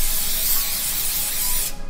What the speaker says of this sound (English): Just a little bit of olive spray on there.